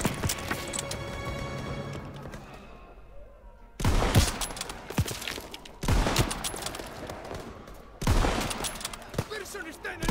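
Bursts of gunfire from the Call of Duty: WW2 campaign, with a scattered opening volley followed by three loud rapid-fire fusillades in steady succession, close and punchy.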